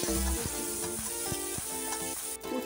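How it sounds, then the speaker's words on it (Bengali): Slices of bitter gourd fry in hot mustard oil in a kadai, giving a steady, close sizzle with faint tonal sounds alongside. "আমি এখন উচ্ছেটা ভেজে নিব"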